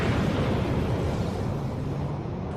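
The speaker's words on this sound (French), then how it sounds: "il disparaît dans une explosion gigantesque d'énergie qui engloutit tout autour" A huge energy explosion sound effect hits at full force as a dense, roaring blast and then slowly rumbles and fades over a couple of seconds.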